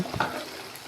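Water poured into a hot pan while cooking lemon rice hits with a brief sizzling burst, followed by a short frying hiss.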